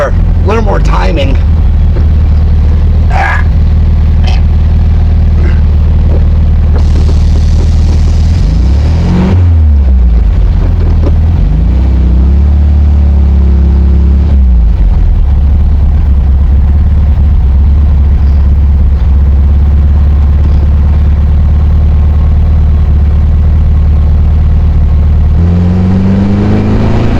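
A 1968 VW Ghia's air-cooled engine runs steadily after a timing adjustment, a low continuous hum with slight rises in speed, close by, as someone talks over it.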